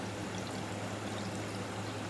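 Water pours into a drinking cup in a steady, unbroken stream that lasts the whole moment, with an even splashing hiss and no voices.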